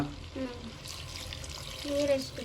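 Running water from a tap splashes steadily into a container for cooking mutton, with a soft hiss under intermittent speech nearby.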